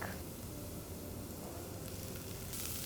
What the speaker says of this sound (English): Again saute till the rawness of the garlic is gone.